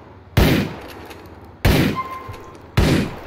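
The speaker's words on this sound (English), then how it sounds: "This dude's just shooting right here for no reason." Three loud, sharp gunshots in GTA IV, spaced about a second apart, each a close blast with a short decaying tail.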